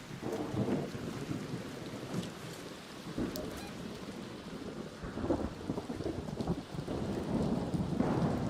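Rain and rumbling thunder roll through an electromagnetic storm in a video game, a dense, steady wash of downpour with low booms rising and falling across the stretch.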